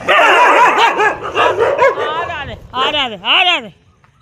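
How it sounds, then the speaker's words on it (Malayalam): Stray dogs near a church bark and yip close by in rapid, excited bursts, with whining, whimpering tones between the barks before they fade out. "ഇത് പിന്നെ ഓരോ സ്ഥലത്തെല്ലാം തെണ്ടുന്ന നായ്ക്കളല്ലേ"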